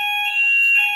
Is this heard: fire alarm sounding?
yes